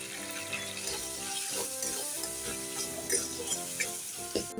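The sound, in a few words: adding asafoetida to frying papad and gourd in a pan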